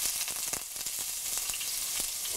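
Crushed small shallots sizzle in hot coconut oil in a pan, a steady bright frying hiss with scattered sharp crackles and pops throughout.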